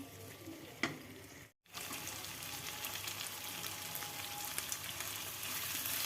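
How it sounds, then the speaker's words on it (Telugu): Prawns fry with onion, green chilli and coriander in a pan, giving a soft, steady sizzle that stops for a split second and then resumes, close but fairly quiet, with no one speaking. "ఆనియన్ పచ్చిమిర్చి కొత్తిమీర ఇంకా బాగా రోస్ట్గా వేయాలి వేగించాలి"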